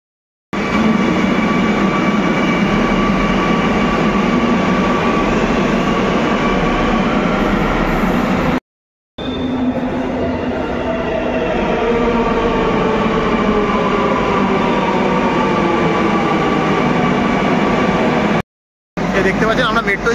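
A Kochi Metro train runs steadily for about twenty seconds, its loud rolling rumble and tonal motor whine continuous, with brief dropouts and faint voices beneath.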